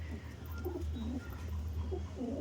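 Pigeons, a Madras pigeon paired with a hen among them, give soft repeated low coos over a steady background hum, gentle and fairly close.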